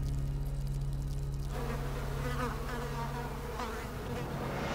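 Bees buzzing at their nest, a steady close insect drone with a low hum running throughout, growing fuller and rougher after the first moment.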